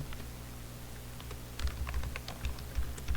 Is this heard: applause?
no